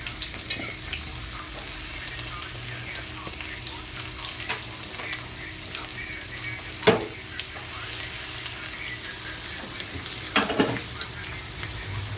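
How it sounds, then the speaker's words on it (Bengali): Finely chopped potatoes frying in a pan, a soft continuous sizzle with two distinct knocks or clatters partway through. "তো এবার এই আলুগুলো দিয়ে দেবো।"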